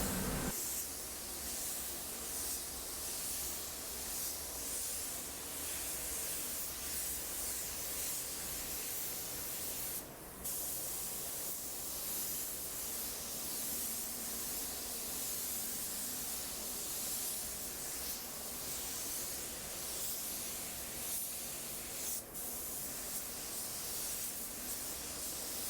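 A spray gun lays down a final mist coat of Octoral W885 at half trigger, giving a steady, even hiss of atomised paint that runs on alone with only brief breaks.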